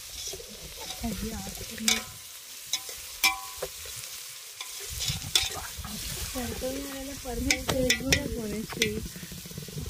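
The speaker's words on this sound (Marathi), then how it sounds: "आता कांदा एकदम परतवून घ्यायचा आपल्याला सर्वांना, लाल होईपर्यंत." Onions fry in hot oil in a large pan for a bhurji pav, a steady loud sizzle with repeated scraping stirs and clanks of the spoon, and voices talking now and then in the background.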